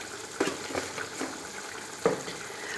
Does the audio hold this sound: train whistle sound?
no